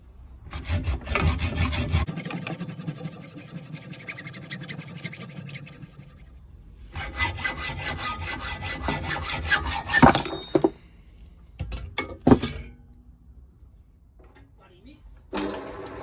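Metal being cut for a Porsche Boxster 986/987 rear subframe brace: harsh, close rasping bursts of cutting with pauses between, several shorter scrapes and clunks toward the end.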